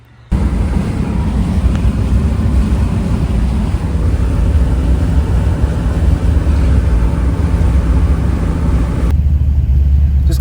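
A Pontiac Firebird drives along a road, giving a constant loud low rumble of engine and road noise with wind buffeting, heard from inside the car and steady throughout before cutting off abruptly near the end.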